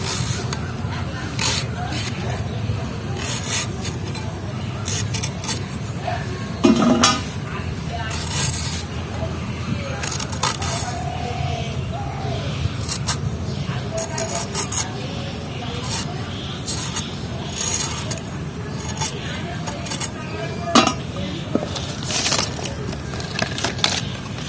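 Raw green mangoes are sliced with a knife in a home kitchen, giving repeated crisp cutting crunches and scrapes spread irregularly through a steady background, with no talk.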